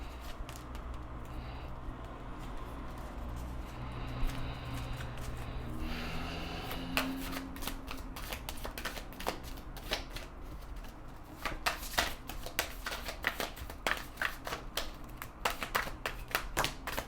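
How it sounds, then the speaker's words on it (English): Tarot cards being shuffled over and over, a dense run of quick papery riffles and taps that grows busier and louder in the second half, heard close with no talk. "But let's get a little more tarot on this."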